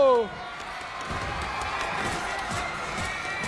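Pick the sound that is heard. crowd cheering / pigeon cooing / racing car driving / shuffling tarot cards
crowd cheering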